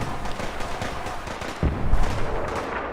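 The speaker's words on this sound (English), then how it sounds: "Those artillery shells should be inbound presently." Artillery shells fire and explode in Fallout 4, with steady rumbling gunfire and a heavier thump partway through.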